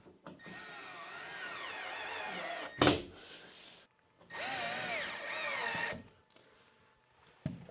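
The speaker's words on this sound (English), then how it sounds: "Let's get a few screws in." A power drill drives screws into a wooden board during a 1980s house rebuild, with two long whirring bursts separated by a short sharp knock, close and loud.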